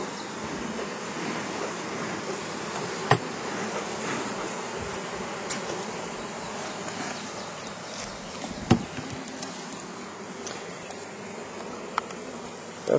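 Honey bees swarm and drone around a hive opened up by a beekeeper, a steady, dense, close buzz running the whole time, with a couple of sharp knocks standing out partway through.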